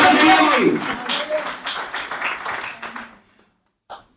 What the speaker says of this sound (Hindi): एक बार संजय जी के लिए जोरदार ताली बजाइए।